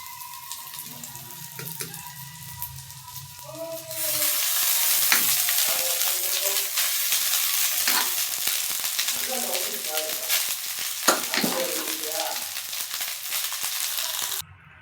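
Dried anchovies sizzle and fry loudly in a pan as sauce goes in, with steady crackling spitting and occasional stirring scrapes; a quieter stretch at the start gives way to continuous close frying.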